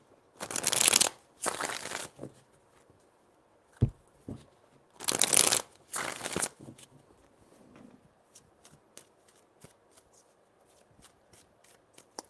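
Tarot cards shuffled by hand in four quick riffling bursts, close and crisp, followed by softer taps and card handling in a quiet room.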